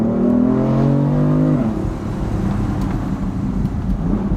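A first-generation BMW M4 revs its exhaust, a loud deep engine note climbing steadily then dropping away into a lower rumbling idle, close and without talk.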